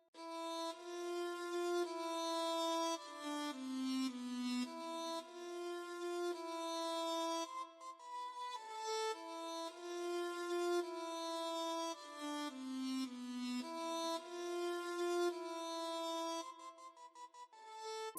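A sampled fiddle from the Kontakt Ethno World 6 library plays a repetitive, sustained melodic pattern with varied note velocities, clear and alone, with a soft tail at the end.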